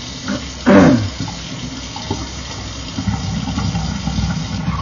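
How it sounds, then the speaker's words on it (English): Water runs from a household tap for a few seconds, with a brief louder gush near the start that settles into a steady, moderate stream nearby. "Let me take some water here."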